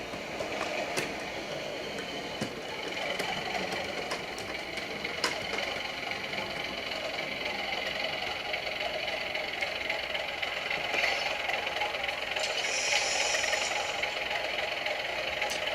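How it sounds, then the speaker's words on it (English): A Bachmann Class 37 model diesel locomotive with onboard sound throttles up, giving a continuous rumbling, throbbing engine drone with a faint rising note and occasional clicks, steady and moderately loud throughout. "the speed of the locomotive while opening the throttle, which I guess allows you to make more realistic kind of effects if you're pulling a heavy load."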